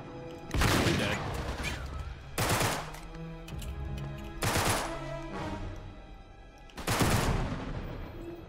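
Heavy shotgun blasts in Uncharted 3 at the ship graveyard, four loud booming shots spaced a couple of seconds apart, each with a ringing tail, amid quieter game sounds.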